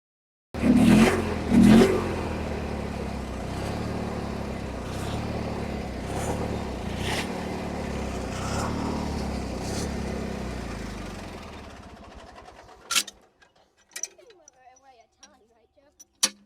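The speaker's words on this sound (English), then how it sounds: "On to the next one, the tractor and the race mower." A tractor and a race mower idle together, a steady close engine chug with a ticking rhythm that fades out near the end, followed by a few sharp knocks and quiet handling sounds.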